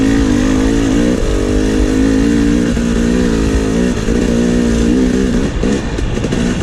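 A KTM 300 XC two-stroke dirt bike ridden along a trail in Tennessee, its engine loud and close, droning steadily with rising and falling revs throughout.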